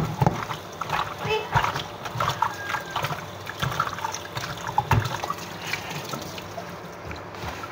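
Running water splashes and trickles as chicken is rinsed, with irregular clatters and handling noises and a voice speaking now and then.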